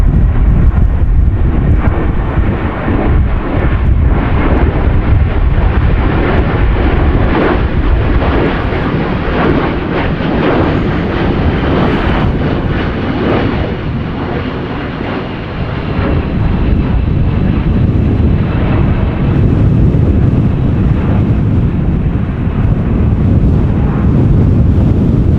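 KLM Boeing 737-800 making a go-around in gusty crosswind at Amsterdam Schiphol: a loud, sustained jet engine roar mixed with heavy wind rumble on the microphone, holding steady for the whole stretch.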